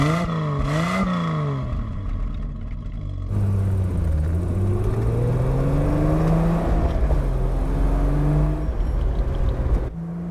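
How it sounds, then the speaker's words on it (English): A Triumph TR6 classic British sports car accelerates hard, its engine note climbing and falling through gear changes in a steady, loud, close-up drone from inside the car. "I am having to push this car to its limit just to keep up with cars that are accelerating at a normal rate of speed"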